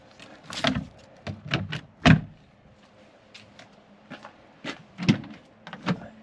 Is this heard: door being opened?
yes